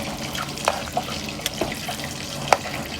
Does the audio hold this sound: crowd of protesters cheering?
no